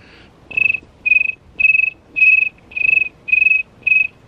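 A person imitates a cricket with a guttural sound and a whistle, producing seven evenly spaced, loud chirps close to the microphone with short silences between them.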